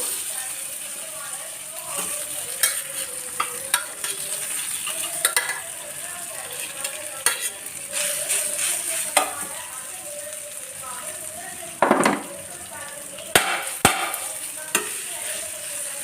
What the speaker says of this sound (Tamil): இதில் நம்ம வந்து இப்போ ரைஸை ஃபுல்லாக போட்டுருவோம்